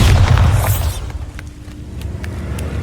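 A Bombarda spell explosion in Hogwarts Legacy erupts as a heavy, loud boom with rumbling low end for about a second, then gives way to quieter crackling debris and a few sharp ticks.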